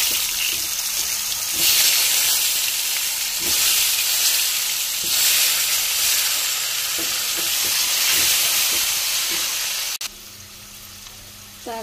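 Potatoes tipped into hot oil already crackling with whole spices such as cardamom, bay leaf, small chillies, cumin and asafoetida sizzle and hiss steadily and loudly, with faint stirring knocks and a brief sharp clatter near the end.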